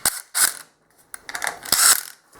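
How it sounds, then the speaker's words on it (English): Screws are driven in to fix a guide centred over a hole in a home railing project, giving short, loud whirring and ratcheting bursts with brief pauses between them. "put a couple screws in it"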